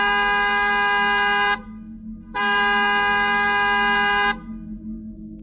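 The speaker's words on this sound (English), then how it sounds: "Suddenly, a car honks aggressively from the street above" A car on the street above honks aggressively, two long, loud sustained blasts separated by a brief gap, with a low ambient hum underneath.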